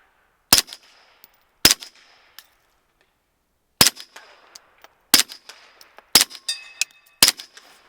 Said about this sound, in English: The thing with shooting suppressors is you hear a lot of ricochets going on.